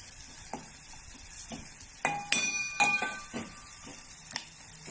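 Four slit green chillies sauté in a hot pan, a soft steady sizzle broken by a few clinks and scrapes of a spoon stirring them.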